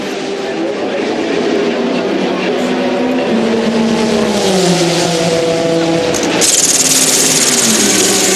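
The Intersport Racing Lola prototype race car roars past on track, a loud sustained engine note rising and falling in pitch through gear changes, then swelling sharply near the end.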